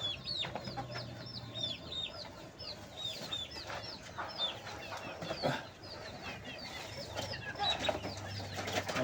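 Young chickens clucking and chirping continuously while being fed, with many overlapping high peeps and occasional wing flutters nearby.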